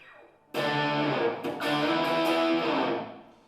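A heavily distorted electric guitar played through the bridge humbucker with the volume on 10 rings out as a loud, sustained chord after a quiet lead-in, a brief re-strike in the middle, then fades toward the end.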